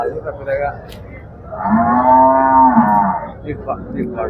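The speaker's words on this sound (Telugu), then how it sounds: "చాలా ఆవులు అయితే వచ్చినాయి ఇక్కడ కనిపిస్తున్నాయి" A single long, loud moo from a cow, likely a heavy Holstein Friesian, rises close by at the Sardar Nagar cattle market, with the murmur of the crowded livestock yard around it.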